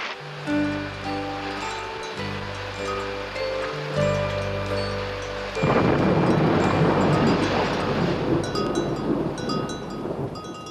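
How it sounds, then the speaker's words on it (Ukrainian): Heavy thunderstorm rain pours down over mountains in a dense, steady hiss, loud and close, with low musical tones underneath before the downpour swells. "Гроза закінчилась."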